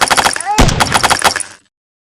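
Video game gunfire: a quick, loud burst of shots cracks out over about a second and a half, then cuts off abruptly into silence.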